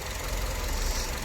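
A Kia Lotze Innovation LPG car idling, giving a brief, even, low mechanical hum with a slight knock-like texture.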